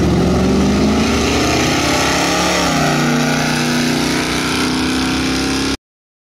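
A car engine fitted with a 3000 stall torque converter revs loudly and continuously, its droning pitch climbing and shifting before the sound cuts off abruptly.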